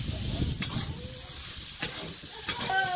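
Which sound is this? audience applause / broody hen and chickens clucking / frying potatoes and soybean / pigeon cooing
frying potatoes and soybean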